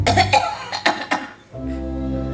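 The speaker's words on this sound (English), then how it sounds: "a person can develop a cough." A person coughs several times in quick bursts during a stage performance of the musical Guys and Dolls at a Jewish Home, followed by sustained instrumental music.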